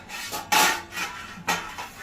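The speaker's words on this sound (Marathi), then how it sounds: "चला तर आता आपण हे गाजर किसून घेऊया" Near and fairly soft, a carrot is grated down a large grater in a few rasping strokes with short pauses between them.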